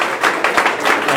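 A conference audience at a Python for AI talk on DALL-E and Midjourney claps for the first questioner in the Q&A, a short burst of brisk applause lasting about a second with uneven individual claps.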